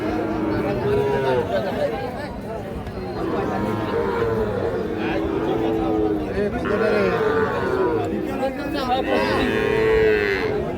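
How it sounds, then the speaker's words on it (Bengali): A Sahiwal bull calf moos repeatedly at Ambari cattle market, its drawn-out calls rising over constant crowd chatter and nearby talking. "এখানে একটা শাহিওয়াল ষাঁড় বাচ্চা দেখছি।"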